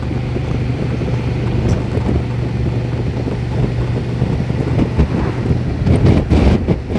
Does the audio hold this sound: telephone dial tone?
no